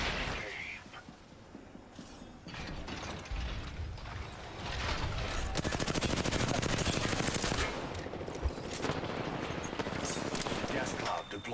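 Charge rifle fire and other gunfire in the Apex Legends video game, a dense barrage of rapid mechanical shots and clatter layered with game effects, loud and continuous, with players talking over it.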